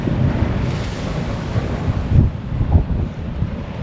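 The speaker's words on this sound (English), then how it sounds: "Wee bit windy." Very high winds tear across an open site at a dam, a loud continuous roar of gusts battering the microphone with surging peaks and no voices.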